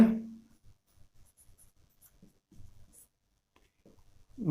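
Pen or chalk writing on a surface during a Hindi coordinate geometry lesson: soft, scattered scratchy strokes in short bursts, faint and close, with a voice briefly at the start and end.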